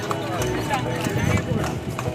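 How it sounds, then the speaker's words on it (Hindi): Hooves of a horse pulling a tonga carriage clip-clop steadily on a road in Agra, mixed into busy street noise and loud talking nearby. "ये बसंती वाला टांगे वाला लगा है।"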